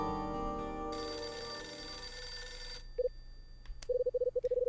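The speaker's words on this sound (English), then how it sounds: "Wouldn't you know, it's the phone again." Telephone ringing in the video game Last Window: after a sustained tone fades, a short ring burst sounds, then a rapid series of repeated electronic rings follows, clear with no talk.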